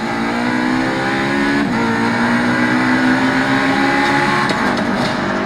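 Race car engine in a racing video game played on an ASUS ROG Zephyrus G14 2024 laptop, a loud, continuous high revving whine with steady rising pitch, close and alone without talk.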